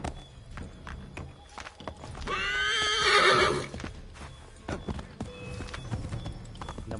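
A horse in a video game neighs loudly in a long whinny, with clip-clop hoofbeats of galloping and scattered game sounds around it.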